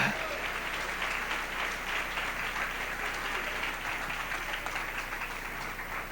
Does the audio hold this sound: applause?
yes